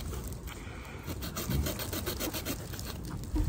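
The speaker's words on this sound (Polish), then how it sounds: "posiadając Victorinoxa, nie musimy się tak męczyć, bo mamy do dyspozycji piłę" A Victorinox pocket knife saw cuts through a wooden stick in quick, rasping back-and-forth strokes, close and steady, with no voices.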